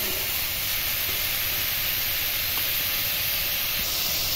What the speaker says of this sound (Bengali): পেঁপে আর আলু একসাথে এবার ভেজে নেব